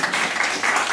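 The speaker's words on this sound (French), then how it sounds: "On peut les applaudir de bonne main" An audience at a stage hypnosis show applauds the participants, a dense, fairly loud burst of many hands clapping together for about a second with no talk over it.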